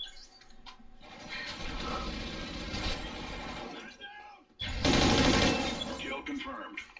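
Automatic fire from the FAD rifle in a video game, with rapid bursts of rattling gunshots over dense game noise; a heavy, louder burst comes near the end, and voices talk throughout.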